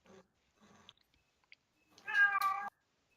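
A single drawn-out cat meow sounds near the end, moderately close, after a few faint scattered ticks and soft background noise.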